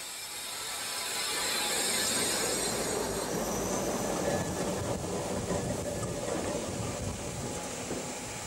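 An empty Berlin BVG train grinding the conductor rail rolls along new track at Friedrichstraße station, with steady rumbling and faint wheel squeal, growing louder early and then holding a continuous mechanical roar.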